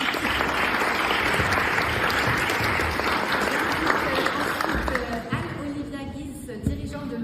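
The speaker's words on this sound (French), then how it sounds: "On peut l'applaudir." An audience at a round-table panel in Bourges applauds steadily as a guest comes up to join the panel; the dense clapping fades toward the end while a voice speaks over it.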